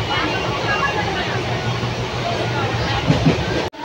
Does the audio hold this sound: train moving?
yes